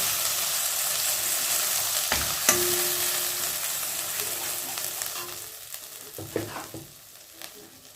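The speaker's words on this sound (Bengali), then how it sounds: "অল্প অল্প করে দেবো আর অল্প অল্প করে নাড়াতে থাকবো" A mixture being stirred in a pan over a low gas flame, a soft steady sizzle with occasional scraping and knocks of a spoon against the pan, fading quieter toward the end, no talk.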